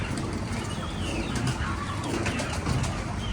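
A Rampuri pigeon coos close by in soft, repeated throaty rolls over a dense background of other birds, with no talk.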